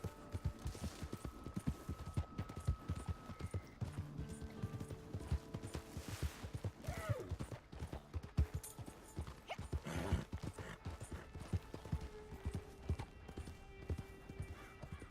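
Horse hooves clip-clopping in the video game Red Dead Online, a brisk, steady rhythm of hoofbeats throughout, with a whinny, scattered distant gunfire and game effects layered over it.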